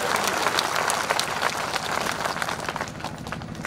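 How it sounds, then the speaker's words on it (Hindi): A crowd at a public rally in Kanpur Dehat claps loudly to welcome a guest, a thick, sustained stretch of applause with sharp individual claps standing out and a low hum of voices beneath. "जोरदार ताली बजा कर स्वागत करिए"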